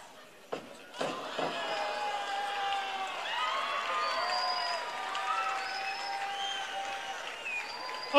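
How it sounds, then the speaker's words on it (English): Audience applause voting for one of four contestants in a live contest, a steady crowd clapping that rises after a couple of sharp opening claps, with whistles and cheers streaking over it. "we got a fairly good applause"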